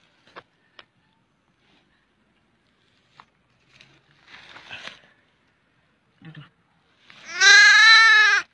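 Faint scattered taps and rustles give way to a single long, loud bleat from a baby goat found at Tanah Belah, a wavering cry near the end of the otherwise quiet scene.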